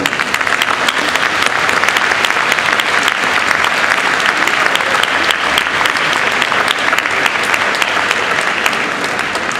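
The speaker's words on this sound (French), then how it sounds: "je vous demande de les applaudir" Sustained, dense applause from a large audience thanking festival volunteers at the closing of the 11th Utopiales science-fiction festival, loud and steady throughout with no break.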